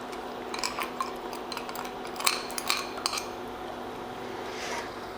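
A spoon stirring a sugar and powder mixture into warm milk in a pot for butterscotch ice cream, with light repeated clinks and scraping over a quiet background.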